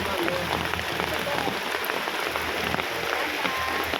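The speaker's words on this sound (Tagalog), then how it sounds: "so lakas ng ulan" Heavy rain pours at Bitukang Manok in the late afternoon, a constant loud hiss of drops striking surfaces that fills the whole stretch without pause.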